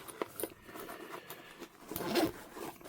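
Zippers on a Genilu 60L bugout backpack being pulled, giving scattered faint scratchy rasps and clicks that build into a longer, louder zip near the end, close by with no talking.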